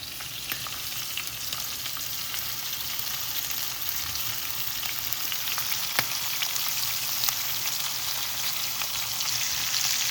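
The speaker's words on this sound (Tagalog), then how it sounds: "Binalot na natin to sa ating breadcrumbs and then ready to fry." Breadcrumb-coated food frying in hot oil, a dense, continuous crackling sizzle close by, steady and unbroken with no talk.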